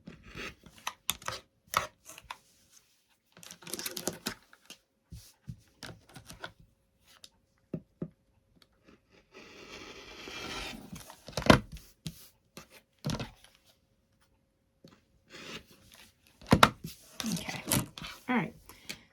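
Scissors trim excess fabric from a sewn washcloth, giving close, sparse snips and crisp cutting crunches in short irregular clusters, with a brief rustle of cloth in the middle.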